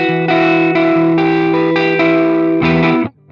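A sustained electric guitar chord rings through a Mooer Prime P1 effects pedal with a distorted, chorused tone, re-struck several times in a steady rhythm, loud and close, then cut off sharply at the end.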